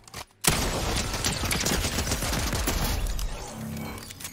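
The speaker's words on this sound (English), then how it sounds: "So that is a shotgun to the chest and body shots to the chest with a pistol" Shotgun and pistol fire in Fortnite comes as a dense, loud, sustained volley of shots that start abruptly after a brief silence and continue with layered impacts before tapering off.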